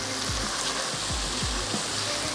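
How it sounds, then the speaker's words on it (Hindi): Masala and onions frying for a barbecue handi, a steady close sizzle with soft low bumps from stirring in the pan, running continuously with no voices. "पहले इस मसाले को अच्छा सा भून लेते हैं ताकि जो प्याज है वो भी थोड़ी सी सॉफ्ट हो जाए"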